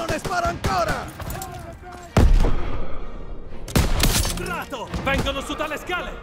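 Bursts of rapid gunfire crackle and boom repeatedly, with sharp loud blasts near 2 and 4 seconds, under shouted Italian voices in a chaotic Call of Duty: WWII battle.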